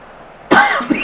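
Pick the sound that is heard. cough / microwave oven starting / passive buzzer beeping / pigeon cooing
cough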